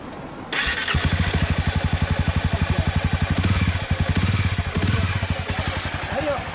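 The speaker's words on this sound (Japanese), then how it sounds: "エンジン音聞かせてもらえる。" A motorcycle engine with a Maverick aftermarket exhaust cranks and fires, then settles into a loud, rapid, throaty idle with a deep pulsing exhaust note.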